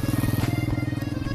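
A motorcycle engine runs at a steady idle, with a quick regular pulsing beat that is fairly close but somewhat subdued, and no voices over it.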